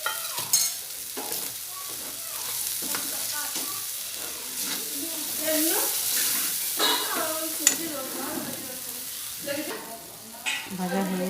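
Ground cumin and black pepper fry in hot oil in a pan, sizzling loudly while a spoon scrapes and stirs repeatedly, with brief voice sounds in the background.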